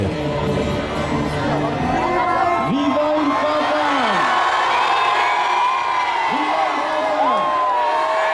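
An immense crowd greets Pope Francis on his arrival, a continuous roar of distant cheering and whoops, with a voice talking over it throughout.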